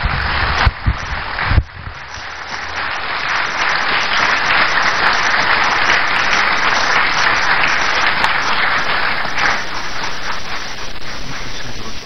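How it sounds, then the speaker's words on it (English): An audience at a university inaugural lecture applauds to welcome the speaker, starting with a few sharp knocks and then swelling into dense, steady clapping that carries on at full strength to the end. "with a round of applause,"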